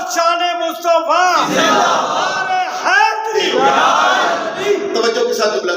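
At a religious gathering, a crowd shouts the Shan-e-Mustafa slogan response together, several loud, sustained group shouts swelling and dropping in quick succession, close and powerful.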